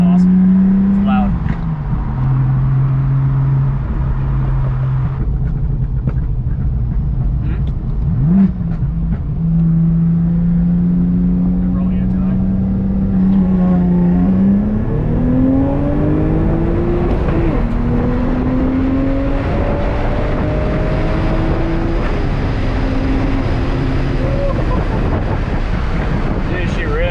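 A 2000 Audi B5 S4 engine roars loudly, its pitch climbing repeatedly as it accelerates through gears, with heavy wind rush over the microphone.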